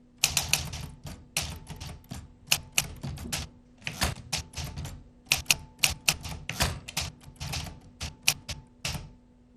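Rapid, uneven keystrikes hammer a typewriter up close, loud and crisp, in bursts with short pauses between them and no voices.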